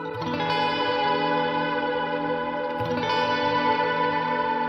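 Frosted verb reverb from the SpaceWalk Saturn plugin on a sustained tonal source, a dense, washy stereo tail steady and loud throughout with a slight swell near the end, no talking.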